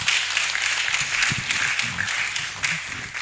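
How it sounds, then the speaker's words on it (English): Audience applause at the 77th Annual New Year School and Conference, a dense steady clapping from a crowd that carries on throughout, with some low voices murmuring underneath. "Please let's give them another round of applause."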